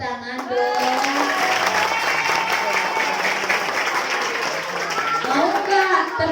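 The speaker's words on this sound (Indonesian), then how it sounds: "Tepuk tangan dong." A crowd of school students claps together on cue during a hygiene outreach session, loud and steady throughout, with children's voices shouting and chattering over the applause.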